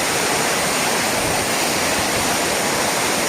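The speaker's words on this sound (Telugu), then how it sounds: "మనం వాటర్ ఫాల్స్ పైకి వచ్చామన్నమాట కింద నుండి పైకి వచ్చాము" Dumpavalasa waterfall in Maredumilli roars close by as a dense, loud, continuous rush of falling water that stays steady throughout.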